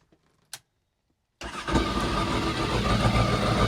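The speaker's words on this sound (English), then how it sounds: "So let's go ahead and turn the engine on." A 2008 Yamaha AR/SX 230 jet boat engine cranks and fires after a brief click, then settles into a steady, loud, close rumbling idle with no talk.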